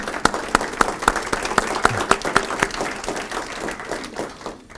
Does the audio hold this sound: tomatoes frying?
no